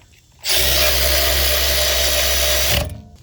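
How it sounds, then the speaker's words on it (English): Power ratchet tightening a caliper bracket on a 2020 Honda Accord 4-cylinder rear brake, one close, loud, steady whir lasting about two seconds before stopping abruptly. "now that we tighten it down with the power ratchet"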